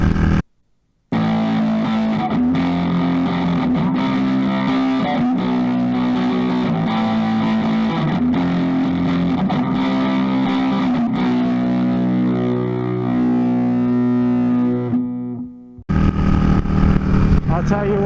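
Engine of a bobber motorcycle on a morning ride in Colorado, a steady loud drone with rhythmic pulsing and shifting pitch, briefly cut out near the start and end; no speech over it.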